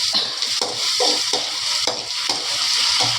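Onions frying with a pinch of salt in a pan for a spinach stir-fry, a steady bright sizzle broken by repeated stirring scrapes at an irregular rhythm, close and loud, with no voices.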